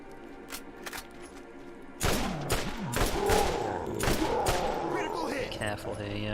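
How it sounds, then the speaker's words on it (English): A rapid-fire gun shoots in the Borderlands video game, Zombie Island of Dr Ned add-on, a dense volley of sharp repeated shots with thuds and whooshing effects, while someone talks over the game audio. "It fires so many shots like so quickly."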